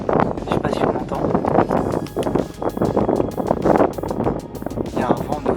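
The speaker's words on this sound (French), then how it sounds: "Il y a un vent de fou quoi." Strong wind gusts roar steadily at the entrance of a cool cave in the Chartreuse mountains, buffeting the microphone continuously while someone talks over it.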